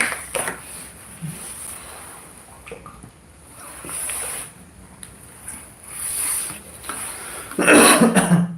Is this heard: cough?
yes